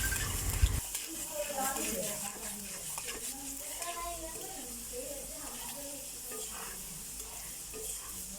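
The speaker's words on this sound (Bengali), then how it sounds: "গরম তেলের মধ্যে আমরা রসুন দিয়ে রসুনটা ভালো করে ভেজে" Garlic fries in hot oil as a tempering for haleem, a close, continuous crackling sizzle with stirring scrapes, and someone talks over it the whole time.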